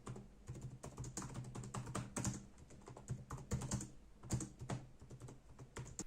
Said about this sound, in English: The keyboard of the laptop feels pretty good to type on.